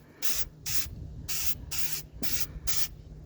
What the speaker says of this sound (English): So we're gonna start spraying here.